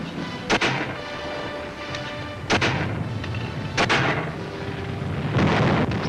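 WWII artillery and gunfire in a battle film set in the Pacific island fighting for the Marianas, 1944: a few heavy booming blasts spaced seconds apart over a constant loud rumble of battle noise.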